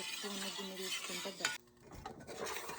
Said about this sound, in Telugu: సో ఇట్లా తిప్పుతూనే ఉంటేనే మనకు స్ట్రక్చర్ బాగా వస్తుంది కోవా